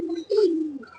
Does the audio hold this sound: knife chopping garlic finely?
no